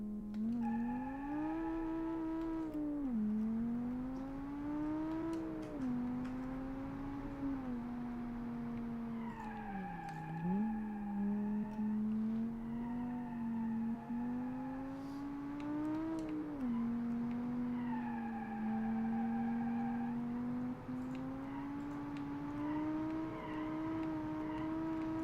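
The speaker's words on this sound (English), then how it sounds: "So this is the 5-cylinder turbo car with 300 horsepower" A 300-horsepower five-cylinder turbo car in BeamNG.drive, its engine droning and revving through repeated rises and dips in pitch as it accelerates and lifts off through corners, steady and prominent, with no talking.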